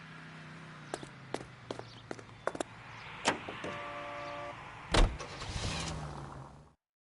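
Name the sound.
car driving in video game LA Noire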